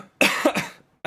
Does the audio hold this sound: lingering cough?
yes